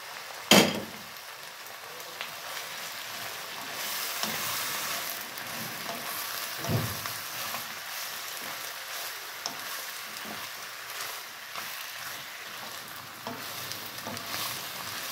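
Bamboo shoots dropped into a hot beef stir-fry with broccoli, a sharp crackle at the start settling into steady close sizzling and frying with occasional stirring scrapes.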